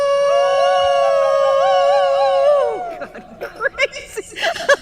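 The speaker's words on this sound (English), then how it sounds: "Group howl, perfect." A group of people howl together like wolves on an outdoor trip, a long sustained wavering howl that breaks off into laughter and scattered voices.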